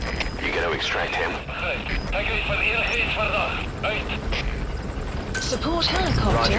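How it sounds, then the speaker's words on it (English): Support helicopter in the video game Metal Gear Solid V, a continuous loud rotor and mechanical whir mixed with other game effects, with a voice speaking over it. "Support helicopter requested."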